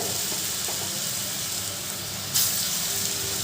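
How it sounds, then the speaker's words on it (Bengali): Vegetarian vegetable balls deep-fry in oil over a low gas flame, giving an even, continuous close sizzle and hiss with a brief louder burst near the end. "ওই যে বলগুলো বানালাম সেইগুলো তেলের মধ্যে দিয়ে ভেজে নেব"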